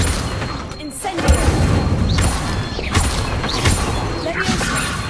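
Incendio fire spell cast in a wizarding video game: several whooshing bursts and crackling impacts with mechanical clicks, repeated at intervals under game speech and voices.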